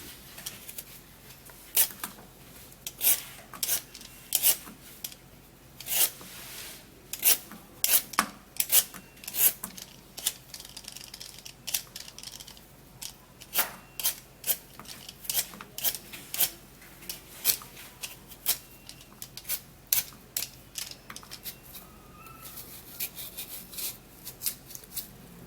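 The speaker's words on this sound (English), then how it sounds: "I'm actually gonna be peeling this." A carrot is peeled by hand, each quick scraping stroke a short dry rasp close to the listener, repeated in uneven bursts with brief pauses between them.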